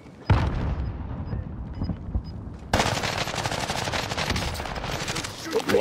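Heavy gunfire erupts in a first-person shooter game, starting with a burst of shots and then sustained loud, rapid firing that continues steadily, with a voice briefly heard underneath.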